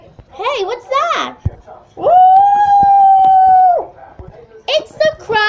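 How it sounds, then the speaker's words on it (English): A cartoon wolf from a 1943 Terrytoons short lets out a long, steady, wavering howl lasting nearly two seconds. Animated voices chatter briefly before and after it. "It's the crying wolf sound"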